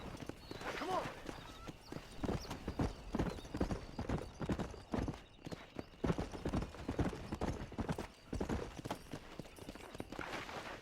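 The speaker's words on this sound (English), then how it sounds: "El pedazo de caballo que nos han dado." Horse hooves clip-clop steadily at a riding pace in the Western video game Red Dead Redemption, with an occasional whinny, under spoken commentary and game voices.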